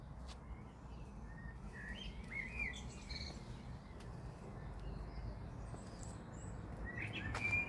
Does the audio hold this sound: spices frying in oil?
no